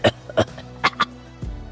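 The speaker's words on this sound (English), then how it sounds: "it quickly dissolved into a coughing fit" A young woman's short coughing fit: two sharp coughs, then two more after a brief pause, close and fairly loud with no talk.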